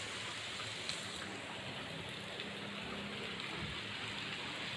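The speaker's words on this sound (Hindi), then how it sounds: "बहुत तेज बारिश आ रही है" Heavy monsoon rain pouring down outdoors in a village, a steady dense hiss of water with no breaks, loud and close, with no voices over it.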